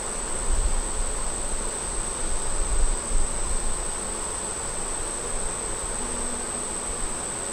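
Honey bees buzz steadily at an opened hive after a hot month, a dense continuous hum close by with a faint high whine running through it.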